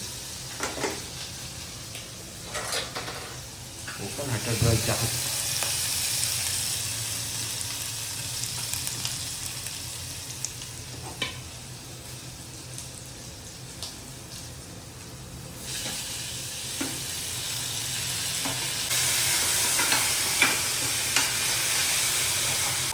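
Spices tempering in hot oil for tomato chutney, a broad steady sizzle with a brief louder burst early on as something hits the pan, running continuously at moderate level throughout with almost no talk over it.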